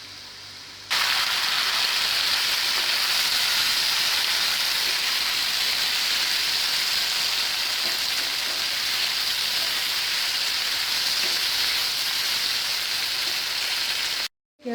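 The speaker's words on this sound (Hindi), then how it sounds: "अब हम इसके अंदर ऐड करेंगे चॉप टमाटर" Chopped tomatoes hitting hot oil with golden-brown fried onions, a sudden loud hiss that settles into a steady, even sizzle for over ten seconds before stopping abruptly.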